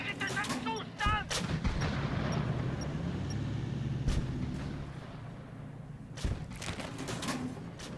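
Tank gunfire in a video game: several heavy booming shots and blasts over a rumbling battlefield bed, with a few sharp cracks spread across the stretch.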